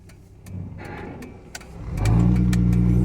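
A 2004 Ford Mustang V6 convertible rattles while driving, with light clicks and ticks over steady road and engine noise that swells louder toward the end.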